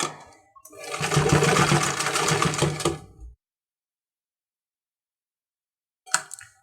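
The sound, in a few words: sewing machine stitching a baby frock's shoulder seam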